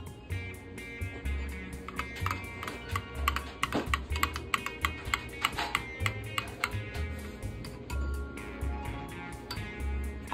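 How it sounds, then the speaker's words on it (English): Sauce with pineapple juice is whisked in a bowl with rapid, regular metallic clicks and taps that keep a fast rhythm throughout, with faint music underneath. "and then you're going to just whisk it."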